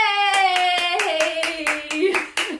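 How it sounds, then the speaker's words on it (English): Hands clap in a steady beat along to a sung children's song at a live toddler story time, about ten claps mixed under the sung melody. "They clap and they clap and they keep on clapping."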